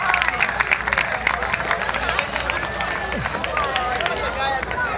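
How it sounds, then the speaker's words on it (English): Audience at a giant udon noodle eating competition applauding the contestants, a crowded burst of clapping mixed with cheering and voices talking over it. "Round of applause for our other contestants for coming out here tonight"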